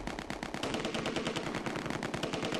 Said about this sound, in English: they're shooting at the mortar team